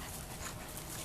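A German Shepherd being walked pants softly and quickly, a faint, breathy rhythm against quiet outdoor background noise, with no voices.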